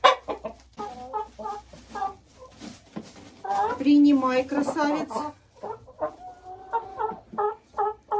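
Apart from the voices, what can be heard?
chickens clucking while being moved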